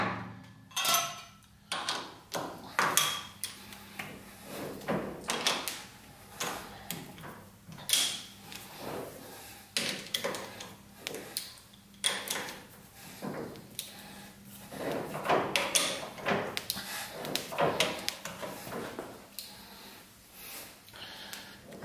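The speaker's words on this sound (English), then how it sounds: "Let's see if it fits on. A DT14 cam lock spindle." A heavy lathe chuck is fitted onto a DT14 camlock spindle, giving irregular close metallic clunks, knocks and scrapes scattered throughout, with no one talking.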